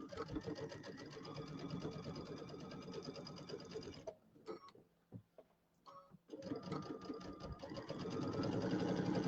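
Sewing machine stitching a winter white and gray pillow, running steadily and close with a fast rattling stitch, then briefly slowing and pausing, then running again at full speed.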